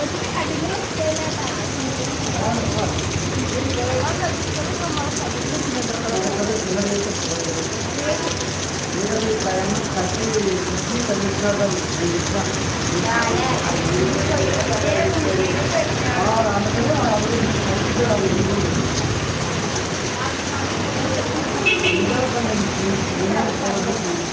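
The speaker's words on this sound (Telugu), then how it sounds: "ఏతంచర్ల పట్టణంలో మంగళవారం సాయంత్రం కురుస్తున్న భారీ వర్షం" Heavy evening rain falls steadily on a town in Bethamcherla, a dense continuous hiss on surfaces with scattered drips and faint distant voices underneath.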